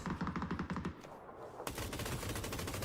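Rapid bursts of M249 light machine gun fire in a team-based battle royale match, loud and rhythmic at first, then a brief lull before dense distant gunfire resumes and continues steadily.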